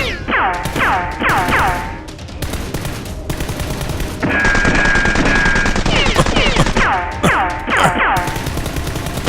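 Rapid Nerf gun shots in a staged action film raid, a loud, fast rattling burst of gunfire-like effects with echoes and whistling tones layered over continuous noise.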